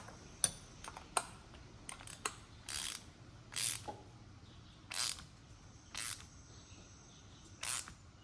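A bolt is tightened with a ratchet on a 1967 John Deere 110 Round Fender tractor, giving sharp ratcheting clicks and short bursts of rapid pawl clatter at irregular intervals, close and fairly quiet over faint background hum.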